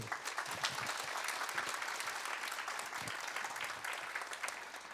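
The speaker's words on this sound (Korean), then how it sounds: "우리 박수로 한번 축하해 주시기" Congregation applauding in a church service to celebrate a child, with many hands clapping steadily at moderate distance and a few louder claps standing out.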